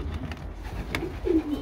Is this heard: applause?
no